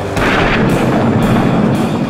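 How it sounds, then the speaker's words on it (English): Tank cannon fires from a large battle tank in a field exercise alongside reconnaissance units: a dense, loud, sustained rumbling roar with repeated sharp broadband bursts roughly every half second, heavy low-end boom filling the whole stretch with no voices. "When the cannon fires, you feel it go through your whole chest."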